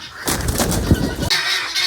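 Dense, continuous squawking and honking from a crowded flock of white guinea fowl, geese and ducks on a farm, loud and close with overlapping calls throughout.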